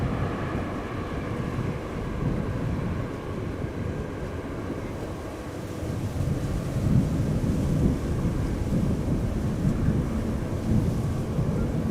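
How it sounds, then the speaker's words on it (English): A Delta Airlines airliner landing at Amsterdam Schiphol roars as its thrust reversers engage, a broad, steady rumble that swells louder in the second half and fills the whole stretch. "that is now overpowered by the thrust reversers of Delta Airlines Flight"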